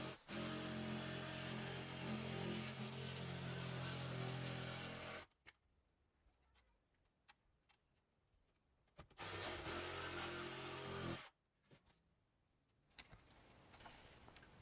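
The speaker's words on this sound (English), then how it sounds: "I'm using my oscillating tool to cut this square" An oscillating multi-tool cuts a square opening in a garage wall for a heater install. Two long, loud, buzzing grinding bursts are separated by a quiet stretch with faint clicks and knocks.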